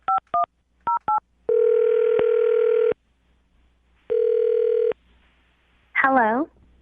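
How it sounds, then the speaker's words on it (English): A telephone handset plays short DTMF dialing beeps for a phone number, then steady dial or ringback tones in two long bursts, clear and close, followed by a brief voice. "I'm going to dial her phone number right now, get her on the phone"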